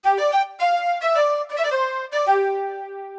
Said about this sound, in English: This brassy flute ensemble.